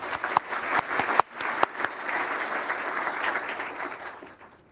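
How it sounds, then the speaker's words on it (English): Audience applause at an awards night in Australia, sustained clapping from a crowd with a few sharp, louder claps standing out near the start, fading slightly toward the end. "So another clap."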